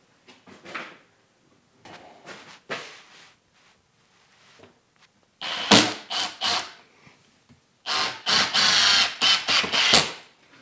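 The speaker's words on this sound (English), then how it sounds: "Just going to use some 2-inch screws, come up through the bottom" Screws, two inches long, driven into wood for a soundproof generator box, several bursts of a power driver whirring and grinding, a few short ones at first, then longer, louder runs separated by pauses.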